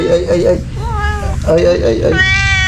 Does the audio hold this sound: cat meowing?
yes